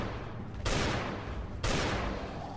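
Revolver shots in a video game, two loud gunshot bursts about a second apart, each followed by a sustained noisy tail.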